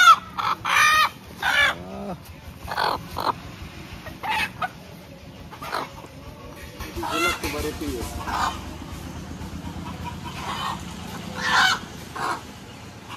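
Country hens cluck in short bursts close by, with a rooster-like call and people talking intermittently over the flock.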